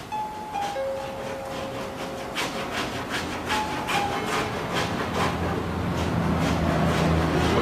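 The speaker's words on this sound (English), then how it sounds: "go ahead and cheese grate the rough edge down" A cheese-grater body file rasps down the rough edge of car body filler, a series of repeated scraping strokes close by, with faint tonal hums from a 1980 VHS recording underneath.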